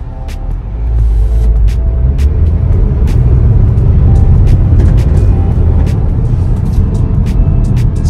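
A 2021 Haval H6 accelerates along a straight road, its engine and road rumble building to a steady, loud drone heard from inside the cabin.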